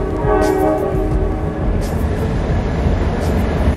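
A train rumbles past with a steady, loud, close roar that fills the whole stretch, with faint hiss on top and no talking.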